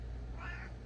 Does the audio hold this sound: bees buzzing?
no